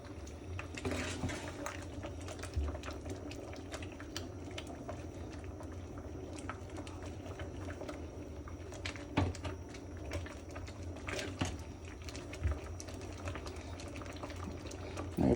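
Ragi flour being stirred into boiling water for ragi sangati, with soft bubbling and intermittent scraping and knocking of a spoon against the pot, fairly quiet throughout.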